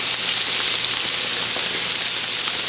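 Burger patties sizzle steadily on a hot cooking surface, a dense, even crackling hiss that stays loud and close with no talking.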